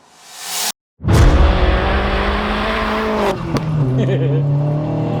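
A self-built 310 BHP Vauxhall Astra VXR engine fires up after a brief silence, catching with a loud burst and then settling into a steady, rumbling idle close by, its tone shifting near the end.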